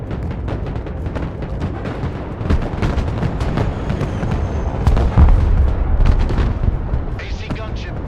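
An AC gunship pours direct fire onto targets in the military video game Broken Arrow, with rapid overlapping cannon bursts and heavy booming impacts landing in quick succession, loud and dense throughout.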